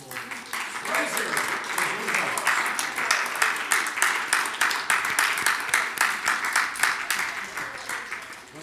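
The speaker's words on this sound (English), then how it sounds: "And really, one more time, a round of applause." Sustained applause from a crowd, a dense rolling patter of many hands clapping at steady volume throughout.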